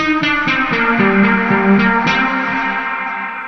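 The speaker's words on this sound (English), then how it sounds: "I get reverb and a bit of delay" Sustained Omnisphere synthesizer notes played in a short phrase, washed in reverb with faint repeating echoes trailing each note.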